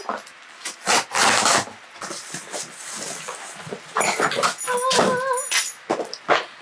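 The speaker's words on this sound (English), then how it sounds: "I never use scissors to open anything because I can never find my scissors. So I'm just gonna use my keys" Keys scrape, rub and tear at a package in a run of short, irregular rasping and crinkling bursts up close, with a brief whiny squeak partway through.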